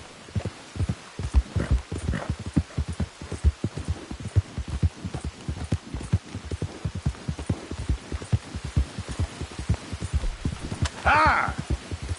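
A horse gallops in Red Dead Redemption 2, with steady, rhythmic, thudding hoofbeats over a low rumble and a brief voice near the end.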